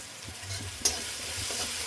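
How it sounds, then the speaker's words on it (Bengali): Ghugni frying in a pan with cumin, turmeric and chili powder gives a steady close sizzle, broken by a scraping stir partway through. "আবার সুন্দর এটাকে ভেজে নেব"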